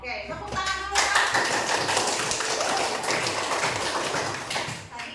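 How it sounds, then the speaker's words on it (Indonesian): Students in a Year 12 high school classroom clap their hands together in a burst of brisk, overlapping applause that swells after a voice and continues for several seconds before tapering off. "Oke, tepuk tangan dulu Kak."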